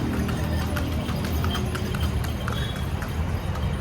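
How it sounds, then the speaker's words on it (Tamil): Horse-drawn cart rolling on a road, hooves clip-clopping in a steady rhythm over a constant low rumble of traffic and engines. "இங்கே பாருங்க குதிரை வண்டி"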